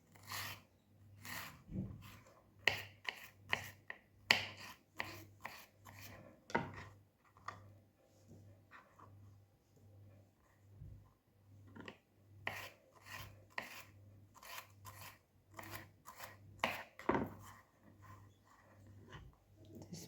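Red peppers being chopped on a board for couscous, with a run of sharp knife strikes in uneven bursts, separated by quieter scraping and rubbing under a steady low hum.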